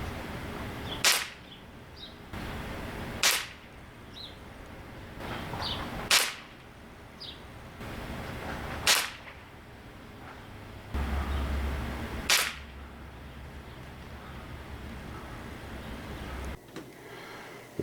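Crosman TR77 NPS short-barrel .177 pellet rifle firing Crosman Premier hollow point pellets at 20 meters, five sharp separate shots spaced a few seconds apart, each a crisp snap over quiet outdoor background.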